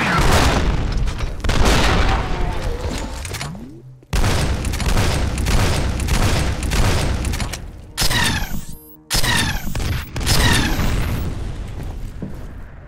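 Rapid heavy booming cannon blasts fire in dense bursts in the PC game F.E.A.R., loud and close, with short pauses between volleys and sharp zapping PPC shots near the end.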